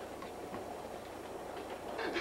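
A passenger train runs on its rails with a steady rumbling roll and faint rhythmic clatter, heard from inside at moderate level and growing slightly louder toward the end.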